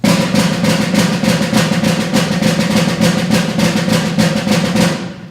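A snare drum plays a rapid, steady Basel doublé rudiment of tight repeating strokes, loud and close, ending with a brief fade.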